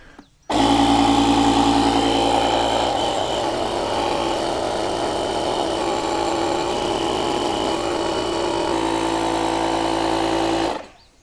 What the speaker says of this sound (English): we've got the trailer tires all serviced with air